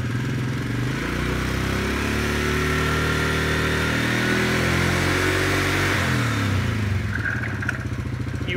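ATV engine held at steady revs, its centrifugal clutch and variator working: a loud, continuous mid-pitched motor drone that rises and falls slightly, then drops as the throttle eases near the end.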